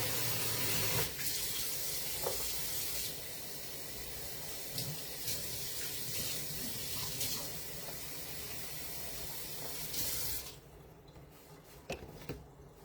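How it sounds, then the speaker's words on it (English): Gloves rinsed under a running kitchen tap, a steady rushing stream of water that runs for about ten seconds before stopping, leaving a few faint clinks and handling noises. "Let me wash my gloves off real quick."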